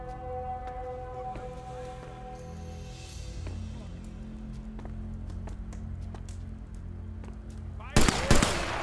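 A sniper rifle shot in the VR game Sniper Elite VR lands as a single sharp, loud crack near the end, after a stretch of low rumbling game ambience with a few faint distant pops.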